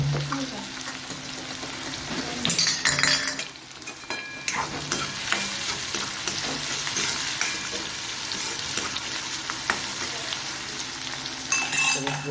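Fenugreek, garlic, green chillies, onion and capsicum frying in oil for pav bhaji, a continuous sizzle with scraping spatula strokes and occasional clinks of utensil against the pan.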